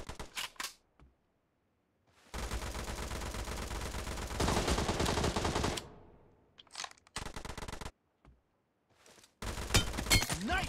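Loud automatic gunfire from the PUBG Mobile battle game comes in several sustained bursts separated by short silent gaps, close and dominant.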